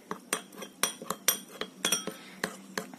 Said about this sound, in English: So now with the help of spoon, I'm just going to mix it properly.